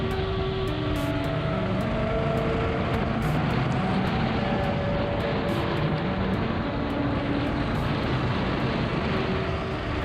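Racing go-karts on a track, a steady distant engine drone with shifting whining tones as karts pass, continuous and moderately loud throughout.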